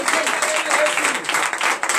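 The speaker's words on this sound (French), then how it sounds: "De vive acclamation à notre Seigneur." Church congregation at a deliverance and prophecy night service bursting into acclamation for the Lord, a dense, steady wash of applause and crowd noise filling the whole two seconds with no pauses.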